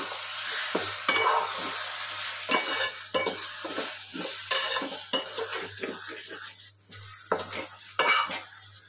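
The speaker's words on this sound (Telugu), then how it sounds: "మధ్య మధ్యలో ఇలా కలుపుకుంటూ ఉండాలి." A spatula scrapes and clinks repeatedly against a pan while ivy gourd cooks for chutney, irregular stirring strokes over a soft, constant sizzle, close and moderately loud.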